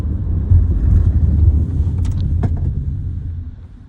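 A 2016 Fiat Panda Lounge heard from inside the cabin, a steady low engine and road rumble rising gently under light acceleration, then a short firm braking with brief clicks and a fading drone.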